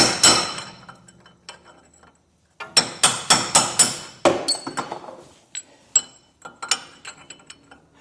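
A hammer strikes a cold chisel with a flattened tip against a Land Cruiser 80 Series steering knuckle, giving sharp metallic clanks in short bursts of four or five blows separated by pauses, close and ringing, with no talk.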